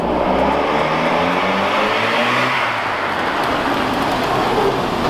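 A wrecked Hyundai Genesis engine runs and the car pulls out slowly, a loud, continuous rumbling drone with a low tone that dips and shifts, heard close with no talking.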